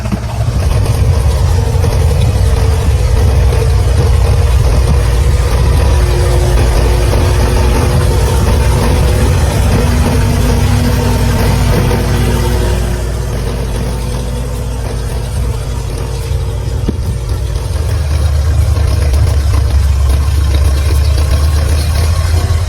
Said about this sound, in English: Hear that steady engine sound?